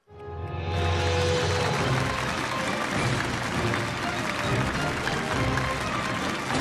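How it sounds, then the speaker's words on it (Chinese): Audience applause welcoming a guest onto a television antiques appraisal show stage, starting abruptly and holding steady as dense, loud clapping from a large crowd. "让我们掌声欢迎下一位藏友登场。"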